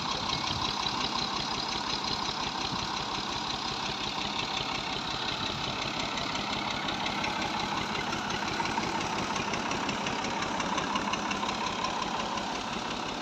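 A tractor engine runs steadily to drive a water pump in Pakistan, a continuous loud mechanical drone with a rapid knocking pulse that holds unchanged throughout, with no voices.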